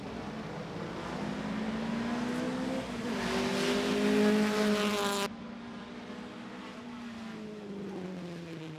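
Car 57, an Alfa GT Junior race car, passes during a sports car race for under-2.0-litre cars, its engine note rising as it nears, peaking loudly, then falling away as it moves off.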